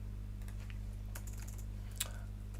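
Fingers type the ipconfig renew command on a laptop keyboard, a quick sparse run of soft key clicks ending in a sharper Enter tap, heard close over a low steady electrical hum.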